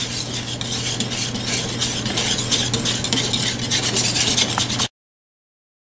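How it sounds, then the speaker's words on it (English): Baking powder is whisked with salt and pepper in a bowl, a close rapid scraping and rubbing rhythm that runs steadily for about five seconds and then stops abruptly. "And now we whisk them together with the salt and pepper."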